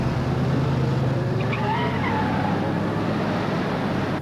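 Car revving and accelerating with tyre skid squeals on a city street in Beverly Hills, a steady loud engine drone with a brief screech rising in the middle.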